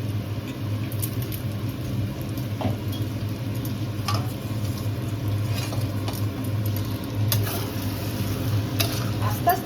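Spices being stir-fried for homemade chilli chicken: quiet, steady scraping and a soft sizzle over a low kitchen hum, with scattered small clicks and no talking.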